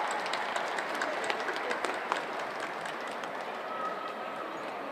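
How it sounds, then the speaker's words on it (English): Audience applause at an Asian Pacific American Heritage Month celebration: a steady wash of clapping from a sizable crowd, moderately distant, holding even for several seconds with faint voices mixed in. "So let's give them another round of applause."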